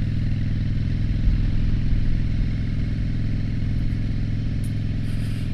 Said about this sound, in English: Actually, I have a motorcycle behind me.